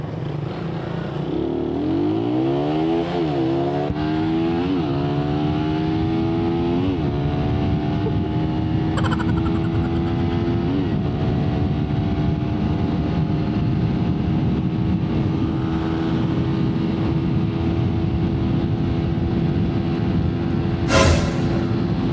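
A carbureted Suzuki Raider 150 and a Suzuki GSX-S 150 race side by side, engines revving up through several gear shifts in a rising, stepped whine, then holding a steady loud drone close by.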